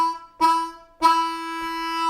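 Harmonica playing a short blues lick, two sustained, reedy draw notes, each starting sharply and ringing close and clear with no talk over it.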